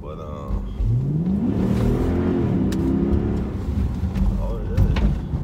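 A 2011 Dodge Charger R/T's Hemi V8 pulls under acceleration from inside the cabin, a steady low engine drone climbing in pitch across several seconds while occupants talk over it.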